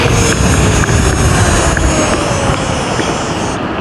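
Teverun Fighter Supreme 7260r electric scooter under hard braking, a loud rushing wind and road roar close to the rider that eases slightly toward the end.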